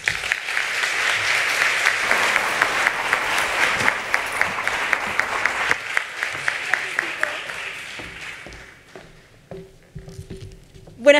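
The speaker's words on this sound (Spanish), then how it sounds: "de la museóloga y educadora Wendy Tribaldos, a quien le damos un fuerte aplauso y recibimos en este escenario." An audience applauds loudly to welcome a guest onto a stage at a youth dialogue event, sustained clapping that thins into scattered claps and fades, followed by faint footsteps and stage noises.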